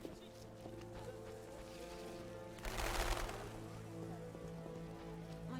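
Rain pouring down in The Witcher, a constant patter on surfaces under a droning game ambience, swelling into a brief heavier rush midway before settling back to a steady hiss; no talking over it.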